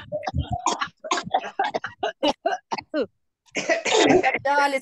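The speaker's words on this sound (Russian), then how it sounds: "Откашливаемся." Several bursts of coughing to clear the throat during a group laughter-yoga breathing session in a park, following a run of short voiced exhalations, moderately loud and close with no speech over them.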